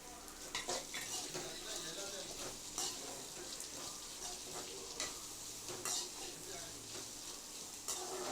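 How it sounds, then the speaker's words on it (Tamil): Onions sizzle steadily in a hot pan while a utensil stirs, scraping and clicking against the metal at irregular moments. "இப்போ நறுக்கின வெங்காயத்தை கொட்டிக்கோங்க வெங்காயம் நல்லா வதங்கட்டும்"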